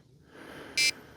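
An electronic fishing bite alarm on a perch rig gives a single short, loud beep that stands out above faint outdoor background noise.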